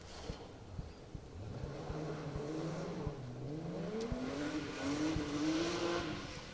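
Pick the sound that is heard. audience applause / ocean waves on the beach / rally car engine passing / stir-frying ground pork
rally car engine passing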